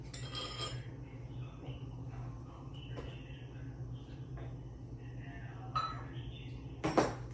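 Light clinks of a butter knife and utensils against dishes while leveling an ingredient in a home cooking session, scattered soft taps over a steady low hum, with a sharper clatter near the end.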